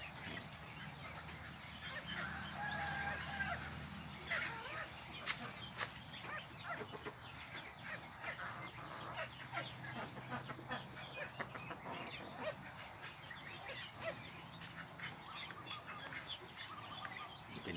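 A white-tailed bantam rooster crows in the morning, heard faintly and at a distance within a busy outdoor background of other fowl calls, honks and ambient noise.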